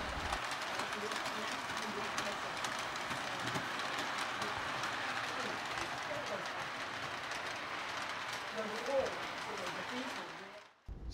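A long O-scale model train runs continuously on a 3x8 layout in a model train store, with a steady rolling rumble and light clicking of wheels, with voices murmuring faintly in the background.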